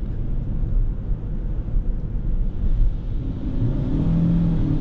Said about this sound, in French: si j'accélère un peu fort